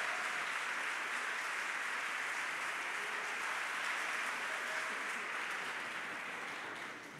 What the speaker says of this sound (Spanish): ¿Alguien le puede dar un fuerte aplauso a nuestro Dios,